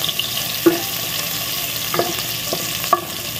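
Ginger sautéing in hot oil, a continuous sizzle with a few soft clinks of a utensil against the pan, no voices.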